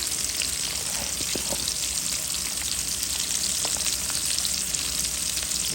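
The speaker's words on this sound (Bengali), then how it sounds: "দিয়ে দিলাম তেল, দিয়ে দিলাম পেঁয়াজ, কাঁচামরিচ, টমেটো, কর্ন," Onions, green chilies, tomato and corn fry in hot oil for a Bengali prawn and mixed-vegetable curry, giving a steady, close sizzle with a dense crackle that holds throughout and no talking.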